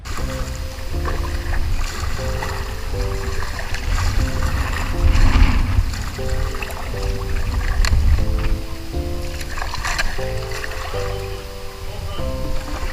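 Paddles dip and splash as packrafts move along the Denison River in southwest wilderness, a close, irregular stroke rhythm over flowing water, with faint background sounds and no clear speech.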